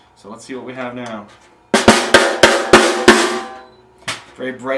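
A tuned drum with its tension tightened is struck five times in a quick, evenly spaced run, each hit bright and poppy with a short ring, between stretches of talking.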